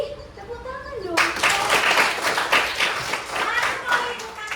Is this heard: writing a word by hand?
no